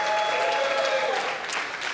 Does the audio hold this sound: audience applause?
yes